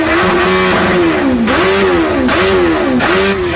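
A late-1980s Kawasaki ZX10 Tomcat superbike engine revs hard and close, its pitch rising and falling in three or four repeated throttle blips with no voices.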